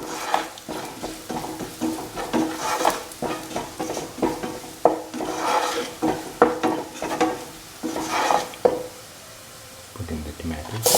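Ground spices including Kashmiri chili powder and turmeric are stirred together in a pan for a vegan dal fry, giving a soft sizzle under repeated scraping strokes of a spoon, with a voice talking over it.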